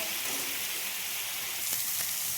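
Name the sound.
frying in a pan for chicken curry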